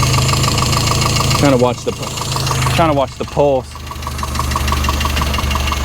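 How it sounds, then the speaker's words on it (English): A Chevy Luv truck engine idles steadily through a tune-up, a constant loud rumble with a faint rhythmic ticking, as someone talks over it in short bursts. "Let me just let it idle."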